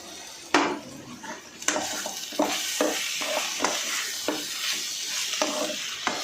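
Masala frying in a pan for a pandi chikkudu kaya (broad bean) curry, a steady sizzle broken by repeated scraping stirs and spoon knocks against the pan, close and fairly loud.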